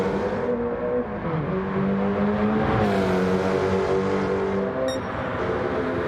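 Race car lapping the Nürburgring Nordschleife in an RXGT sprint race, engine droning loud and steady close up as it shifts pitch through gear changes and revs, with no talk.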